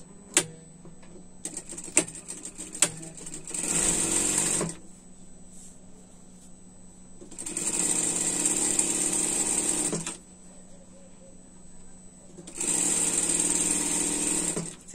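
A sewing machine stitches a backstitch on a pet dress, running in three distinct bursts of rapid, buzzing stitching separated by quiet pauses with a few faint clicks and handling sounds.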